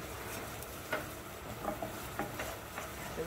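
A spoon stirring chili powder into daal in a pan gives a steady soft scraping and bubbling wash, with a few brief louder scrapes and clinks spaced through, close by and with no talking.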